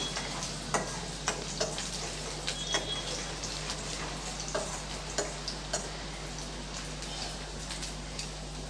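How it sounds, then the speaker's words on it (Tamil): Thinly sliced garlic with mustard seeds sautéing in oil in a pan, a steady soft sizzle with scattered light crackles and pops throughout, close and moderately quiet, no voices. "இப்போ அதை சேர்த்துடலாம் கொஞ்சம் நல்லா வதக்கி விட்டுக்கலாம்"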